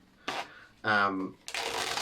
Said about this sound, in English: So if I put that card back in the deck, and I can give it a little shuffle if you like.